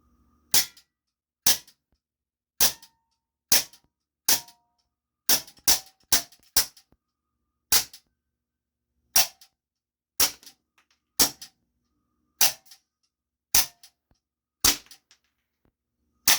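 A Big Bang AK-74 CO2 airsoft gun converted to 4.5 mm fires plastic BBs at an aluminum beer can, sharp loud cracks repeated about sixteen times at uneven intervals, each isolated in silence.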